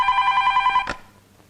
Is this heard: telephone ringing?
yes